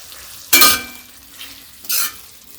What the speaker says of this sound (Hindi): थोड़ा सा गरम मसाला चला देते हैं